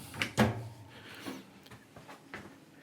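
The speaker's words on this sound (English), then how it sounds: "grab the sides of the door" A GE Profile self-cleaning oven door is lifted off its hinges, producing a few close, soft clunks and knocks from the metal door, then quieter clicks and handling noise.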